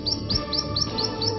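A songbird on a river floodplain chirps about six quick, high notes in an even, rapid series, close and clear over a soft steady background.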